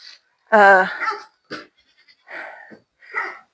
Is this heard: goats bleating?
yes